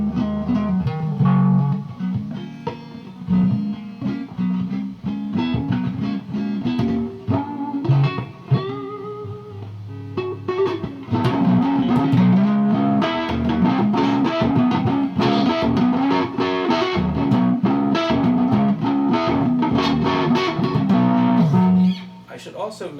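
Electric guitar, a Stratocaster, played through a Tech 21 reverb in a Metro zero-loss effects loop, giving a spacious hall reverb; chords and single notes ring out with long ambient tails, no voices.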